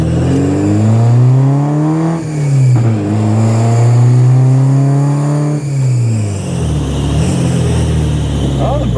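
A cheap, old, smoking Porsche's engine revs loudly while driving, its pitch rising and falling with each throttle change and gear shift. Heard from inside the car, close and continuous.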